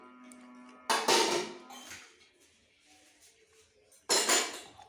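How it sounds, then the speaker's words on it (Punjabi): Dishes being washed, with two sharp clattering bursts of utensils and pots knocking together, separated by a few seconds of quieter clinking and handling. "ਲੈ ਮੈਂ ਭਾਂਡੇ ਧੋ ਦਵਾਂ"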